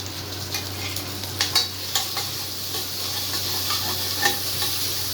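Mint and coriander leaves being sautéed with garlic, onions and shallots in a pan, a steady sizzle and hiss with occasional scrapes and clinks of a stirring spoon against the metal, close and continuous.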